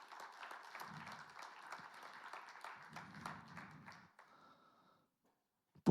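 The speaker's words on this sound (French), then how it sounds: "je vais vous demander, si ça ne vous dérange pas, d'applaudir l'ensemble de ces acteurs" Audience applause in a hall at the Agile Grenoble 2025 conference: steady clapping from many hands for about four seconds, then fading into a few stray claps and quiet.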